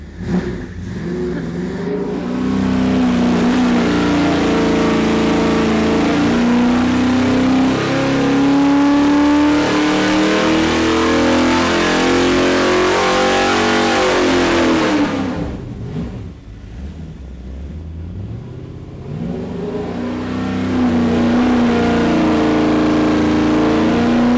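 A car engine on a dynamometer revs hard through a long sustained pull, pitch climbing steadily to a loud roar before dropping off, then building again; loud and continuous with no talking.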